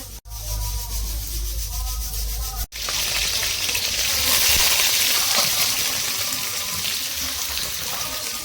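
Water runs from a tap while a grinder jar is rinsed and rubbed clean in a sink, starting with a low hum and light rinsing before a loud, steady gush of flowing water takes over.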